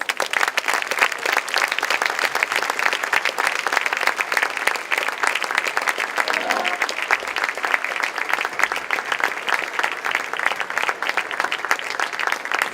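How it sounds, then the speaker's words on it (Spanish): Sustained audience applause fills the ceremony honouring cancer-support organisations at the Blanes Festa Major town festival, steady dense clapping from a large crowd lasting throughout without a break. "Un aplaudiment per elles."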